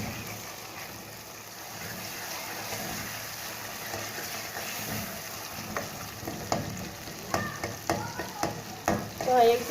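Tomatoes soften in a pan of hot oil for daal maash with a steady low sizzle, followed later by a run of louder, rhythmic spoon scrapes and knocks against the pan.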